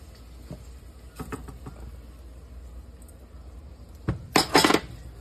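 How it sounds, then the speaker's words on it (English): Rice sautés in butter with seasonings and dill in a pot, heard as scattered clinks and scrapes of a utensil against the pot, with a louder burst of stirring clatter near the end over a faint background hiss. "We're gonna start sauteing the rice around in the butter and the seasonings and the dill and all that."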